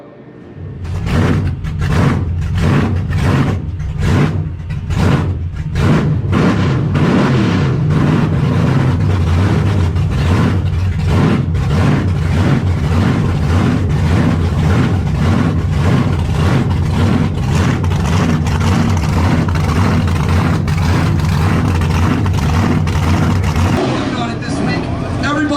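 WARBIRD, an Aussie burnout car, roars loudly and steadily with its engine held near the limiter, a dense continuous drone with rhythmic pulsing that drops off abruptly near the end.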